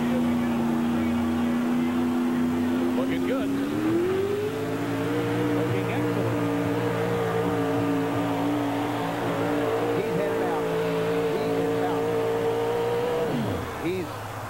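A monster truck making a truck-pull run at the 1987 USHRA event in Anaheim: a loud, sustained engine roar that climbs in pitch, holds steady, then drops off near the end, with an announcer talking over it.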